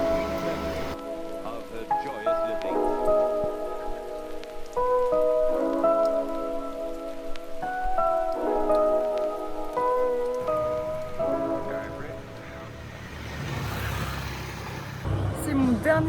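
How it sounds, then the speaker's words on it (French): Steady rain on Nusa Lembongan in Indonesia, a constant hiss of drops on surfaces heard throughout, with music playing over it and a brief voice near the end. "il pleut"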